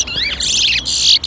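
A towa towa bird chirps rapidly in a bird race, a close, loud burst of high twittering notes broken by brief pauses.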